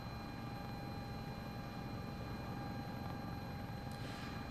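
A CowanSim S-76 helicopter climbs steadily in Microsoft Flight Simulator, its rotor and turbine drone loud and unbroken throughout, with no voices over it.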